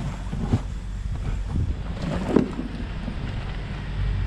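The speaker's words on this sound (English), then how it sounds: "It's getting windy." Gusty wind buffets the microphone in low rumbling bursts at a new barn in the rain, with a few thumps and rustles, no voices heard.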